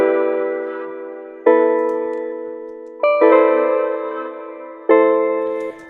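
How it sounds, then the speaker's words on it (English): Omnisphere piano patch playing a lofi chord progression, four sustained chords struck roughly every one and a half seconds, each decaying slowly, warm and clear with no voices. "I used a patch in Omnisphere to create a piano sound that sounds like this."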